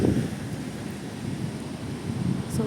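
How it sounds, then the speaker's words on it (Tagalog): Strong wind roars and buffets the microphone in a continuous low rumble, swelling slightly at times, with no voices. "Windy day. Windy day today."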